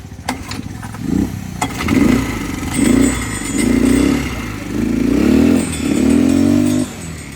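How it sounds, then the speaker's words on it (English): A motorbike ridden through the streets of Kigali, its engine revving up and down in repeated surges through gear changes, close and loud, with clatter at the start. "You should actually go on a motorbike in Kigali, trust me."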